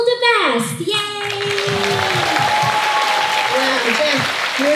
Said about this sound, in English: One more round of applause for Jeff.